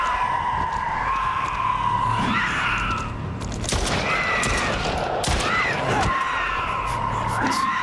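Gunfire in the video game Stray Souls, bursts of sharp shots and impacts over continuous game sound, with a voice talking throughout.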